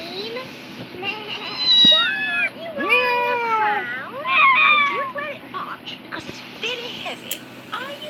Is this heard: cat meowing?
yes